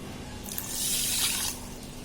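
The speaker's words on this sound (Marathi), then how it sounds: "जेवढी साखर तेवढंच पाणी घालायचंय" Water poured from a bowl onto an equal measure of sugar to start gulab jamun syrup, a short soft splashing pour of about one second in a quiet kitchen.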